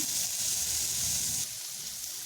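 Chopped onion fries in hot butter or oil in a karai, giving a steady, moderately loud sizzling hiss that drops a little in level partway through, with no voices.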